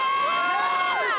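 A crowd cheering and whooping at an outdoor event, a dense continuous roar of many voices with rising shouts, loud and close, with no clear speech over it.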